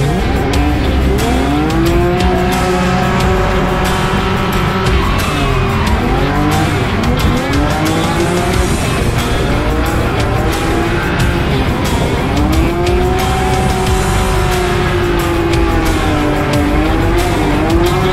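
A tuned car producing 216 kW is driven hard on its first test lap, with a loud continuous engine roar and repeated sweeping tire squeals as it slides through corners, close up throughout.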